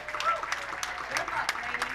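A bowling crowd at the PWBA East Hartford Open claps in a brief send-off for the top 12 players, with scattered moderate applause under ongoing talk in a large hall.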